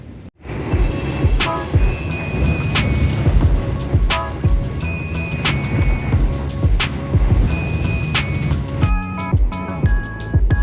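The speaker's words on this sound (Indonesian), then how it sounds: "Kereta api Bima masuk stasiun" A Bima passenger train pulls into a station, heavy rumble and rhythmic clatter of wheels over rail joints, with tonal squeals and brake hisses, loud and close throughout.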